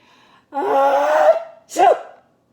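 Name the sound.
imitated sneeze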